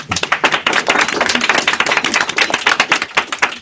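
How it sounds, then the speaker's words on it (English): A workshop audience claps together on cue, a close, loud run of distinct hand claps in quick irregular rhythm, fairly sparse rather than a dense roar, lasting a few seconds. "everyone, big round of applause"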